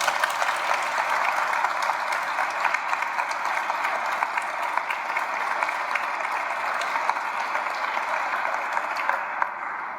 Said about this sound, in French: je pense que nous pourrions avoir une bonne main d'applaudissements